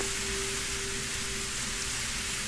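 Steady pouring rain in a video game, a dense, even hiss spread wide with a faint low rumble beneath, continuous throughout without pauses or voices.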